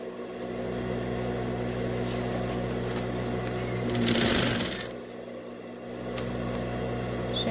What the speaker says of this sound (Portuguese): Então, ó, seguimos aqui costurando. Vamos até o final.